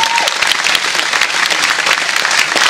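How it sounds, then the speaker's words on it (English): Loud audience applause at a movie premiere, dense sustained clapping from a crowd filling the whole stretch without a break. "Go ahead, you guys can give him a round of applause"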